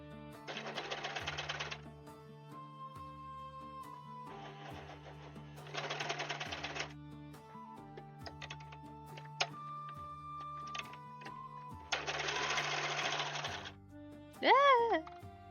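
A sewing machine runs in repeated bursts of steady mechanical whirring, each a second or two long, separated by pauses with background music playing throughout; a short vocal sound comes near the end.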